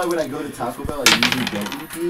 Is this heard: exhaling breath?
no